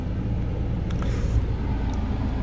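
A Mercedes-AMG A45 S with a 2-litre, 421-horsepower engine runs at a steady idle, giving a low, even rumble from nearby with no talking.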